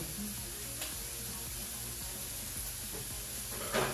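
Smoked bacon frying in a pan, a steady broadband sizzle and crackle with small pops scattered throughout, close and continuous with no talking.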